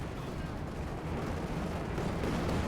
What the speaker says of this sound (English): No, he goes for the anti-tank strafe.